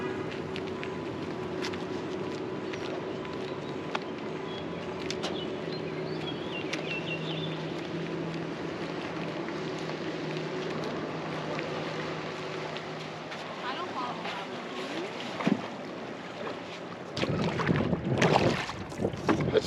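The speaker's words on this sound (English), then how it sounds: "So guys, this thing's paddling really good." Paddling a Radisson 12P aluminum canoe on a lake: soft water swishes and light knocks against the hull over steady wind noise, with a louder splashing burst near the end.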